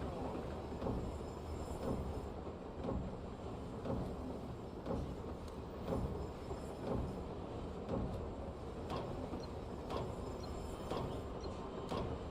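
Train moving in the video game Warzone, a steady rolling rumble with rhythmic clacking of wheels over rail joints, continuous and fairly quiet.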